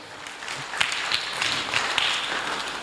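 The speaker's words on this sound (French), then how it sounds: "On acclame, on acclame." An audience applauding at a Sunday church gathering, scattered, moderately loud claps in an irregular patter with faint voices underneath.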